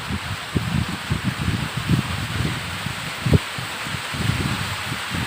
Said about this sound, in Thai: นี่เจ้าโอ้ดูลมพัดแรงมาก